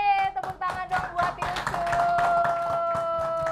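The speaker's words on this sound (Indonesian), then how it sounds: "Woi, tepuk tangan dong buat" Live audience at an Indonesian stand-up comedy show claps and cheers for comedian Yusuf, a dense burst of hand claps under a steady, continuous roar of crowd noise.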